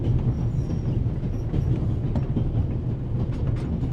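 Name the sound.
moving train in the video game The Raven: Remastered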